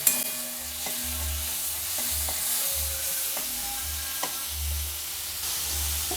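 Fish lightly frying in oil in a pan, with a steady close sizzle and a few soft scraping stirs and clinks, no one talking.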